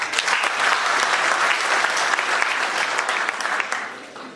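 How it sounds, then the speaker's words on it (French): A crowd applauds steadily, a dense wash of clapping that fades slightly at the end. "Je ferai applaudir une dernière fois"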